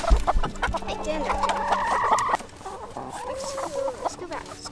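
Chickens cluck and murmur close by in a farm setting, making a series of short calls and drawn-out squawks while a person talks over them.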